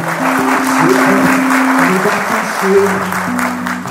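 Crowd applause swells as a broad wash of clapping and cheering over steady music, loud and continuous throughout, at a live concert.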